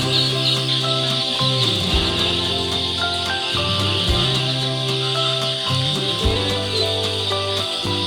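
Ducklings in a duck farm hut chirp and peep constantly, a dense, overlapping flock chorus close by with repeated short calls and no speech.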